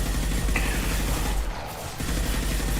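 Sustained squad gunfire against Geth in a sci-fi shooter video game, a dense rattling fusillade of rapid shots that runs loud and steady, easing briefly near the middle before resuming.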